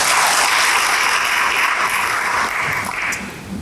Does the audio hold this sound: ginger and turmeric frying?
no